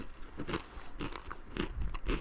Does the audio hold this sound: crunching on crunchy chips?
yes